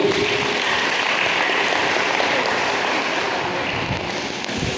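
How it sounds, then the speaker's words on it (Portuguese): A congregation at a talk led by Bishop Rosivan Cordovil gives Pedro a loud, continuous round of applause, a dense rain-like patter of many hands holding steady throughout without talk. "Uma salva de palmas para o Pedro."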